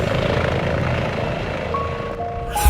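Helicopter climbing into clouds near Van Nuys, its engine and rotor roaring loud and steady throughout at close range with no talking.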